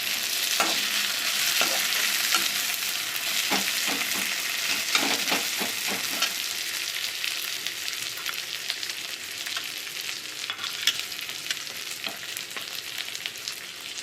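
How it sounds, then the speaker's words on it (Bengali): Onions and tomato fry together in a pan of oil, a steady close sizzle with clusters of stirring scrapes, busier early and easing toward the end. "পেঁয়াজটা আমি লাল লাল করে ভেজে নেব।"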